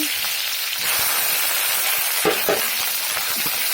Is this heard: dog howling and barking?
no